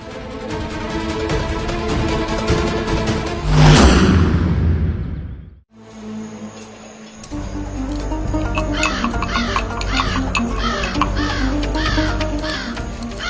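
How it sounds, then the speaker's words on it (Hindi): Crows caw repeatedly and loudly at night over a dense, busy background, with a brief dip to near silence partway through. "इतनी रात को कौवे की आवाज बंद नहीं हो रही है"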